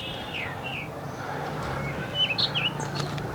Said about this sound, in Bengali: এখানে আসলেই পাখির কিচিরমিচির